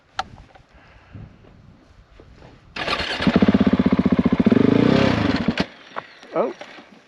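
A brand-new 2023 Husqvarna 701 motorcycle with a rough engine note fires up in a desert canyon. After quiet handling noises it barks into a loud, close, rapidly pulsing run for about three seconds, then cuts off, with a voice nearby.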